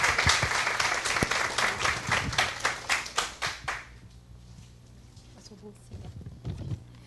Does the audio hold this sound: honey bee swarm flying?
no